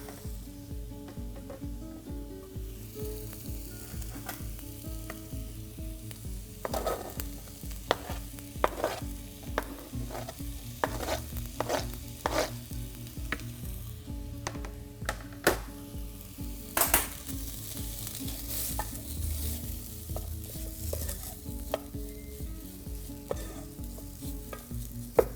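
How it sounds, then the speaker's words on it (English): Turkey pieces browning in a pan for a turkey curry, a continuous sizzle with repeated scraping and tapping as the meat is turned, close and steady without talk. "So just turning over the turkey so that it's cooked on or browned on all sides"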